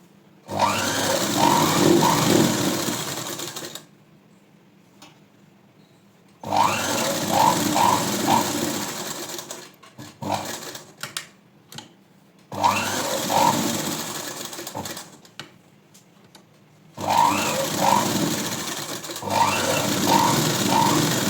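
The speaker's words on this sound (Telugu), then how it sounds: "సేమ్ ఇలానే ఈ రెండో షేప్ బెల్ట్ని కూడా స్టిచ్ చేసుకోండి" A sewing machine stitches a shape belt for a blouse in four loud, close bursts of steady whirring, each several seconds long and separated by quiet gaps with faint handling noises.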